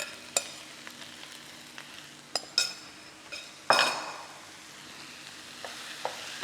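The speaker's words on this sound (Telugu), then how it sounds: "దీంట్లో నేను మన టమాటా గుజ్జు ఇవన్నీ కలిపిన రైస్ వేసేస్తున్నాను." Rice mixed with tomato pulp sizzles softly in a pan over a high flame, close by, with scattered clinks and scrapes of a spoon stirring and one louder burst of frying midway.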